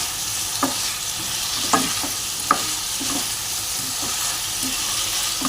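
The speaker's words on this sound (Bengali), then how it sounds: "এবার এই ঝিঙেটাকে আমি এর মধ্যে দিয়ে দেবো, দিয়ে ভালো করে কষিয়ে নেব।" Ridge gourd stir-fried with potatoes and spices in a hot pan, a steady sizzle with several sharp scrapes and clinks of the stirring spoon, close and continuous with no talking.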